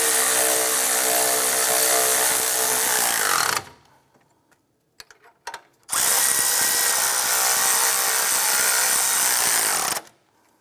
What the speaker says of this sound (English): Let's go ahead and tighten these bolts down.